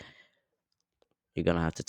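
Keys click on a computer keyboard as a command is typed: a quick burst of taps, a lone soft tap, then a person starts talking.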